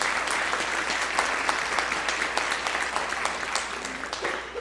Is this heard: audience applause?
yes